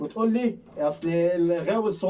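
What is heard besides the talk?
No everyday noises stand out.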